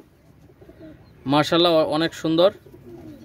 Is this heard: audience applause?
no